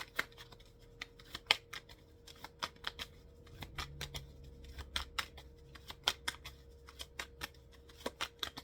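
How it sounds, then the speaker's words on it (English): Tarot cards being shuffled by hand, a series of crisp, quick riffling snaps and flicks at irregular intervals, close and fairly quiet, with no talk over them. "let me shuffle these cards up"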